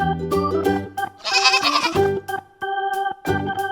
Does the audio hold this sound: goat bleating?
yes